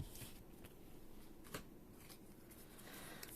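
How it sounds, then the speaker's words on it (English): A deck of Pokemon trading cards being shuffled, giving soft papery riffles and snaps spread over a few seconds, close and fairly quiet against faint room noise, with no one speaking. "I should probably be doing the shuffling in the camera."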